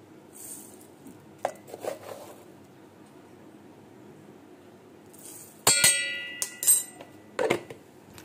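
A spoon clinks against a glass while sugar goes into a mint drink: scattered light taps early on, then a cluster of sharp metallic rings and clatters near the end, close and alone.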